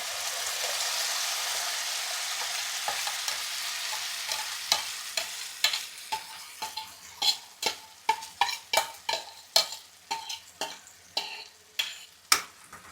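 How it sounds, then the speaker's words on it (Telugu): A cashew-based curry paste fries in a pan with cardamom, first as a smooth hiss, then with the sizzle fading under a quick, steady run of sharp spatula taps and scrapes against the pan, close and clear. "ఇప్పుడు మనం కొంచెం ఇది వేయించుకోవాలి"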